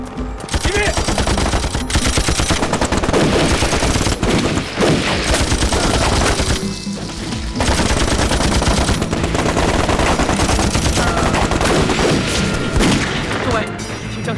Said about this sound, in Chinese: 听枪声，鬼子已经冲进村子了。